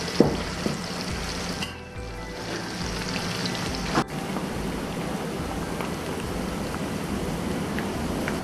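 Dried shark fish sizzles in a pan of hot oil while being fried for pickle, a continuous close crackle like rain on a surface, with a few sharp pops and knocks standing out briefly.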